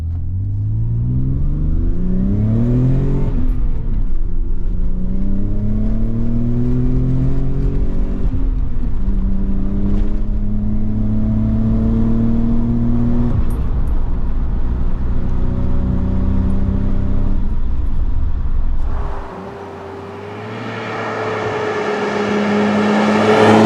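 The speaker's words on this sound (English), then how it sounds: "This particular car has a slightly modified exhaust, so it is louder than standard, and it sounds pretty good." A Nissan 300ZX (Z32) with a slightly modified exhaust revs loud and throaty through several gear changes nearby, rising and falling in pitch, then drops and climbs again sharply near the end.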